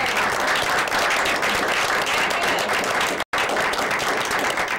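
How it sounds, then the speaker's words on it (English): Sustained applause from a studio audience on a midnight talk show, dense and steady clapping with a brief dropout near the end. "A round of applause."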